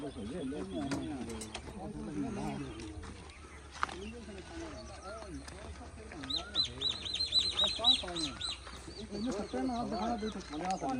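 A koel calls repeatedly in a village, its rising whistled notes clustering in the second half over a steady outdoor background with people talking nearby.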